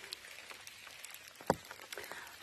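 Rain patters on an umbrella overhead, scattered soft drops tapping irregularly with one sharper hit midway, quiet and close with no talking.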